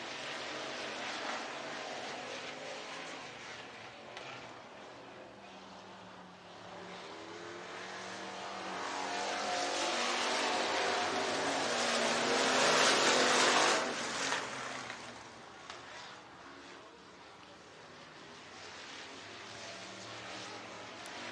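IMCA race cars lapping Kossuth County Speedway in Algona, Iowa, engines droning at a distance, then swelling louder as the pack passes nearer before fading back to a steady far roar.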